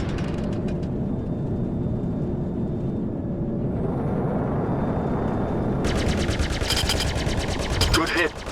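Ship weapons firing in the space game Star Citizen, ballistic and energy guns together, a dense steady rattle of rapid shots under engine hum, growing louder and harsher with bright crackling bursts toward the end.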